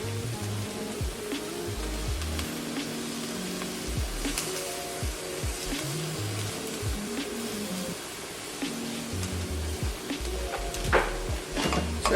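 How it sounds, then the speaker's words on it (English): Cabbage sizzles softly in a hot pan as it is stirred in with partly cooked ingredients, a fairly quiet crackle with scattered scraping and clinking of the utensil. "now I'm going to also add in my cabbage"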